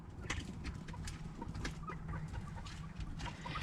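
Quail calling from a garden enclosure, a run of short, sharp chirps and clucks repeating irregularly at close range over a steady background hum, with no voices.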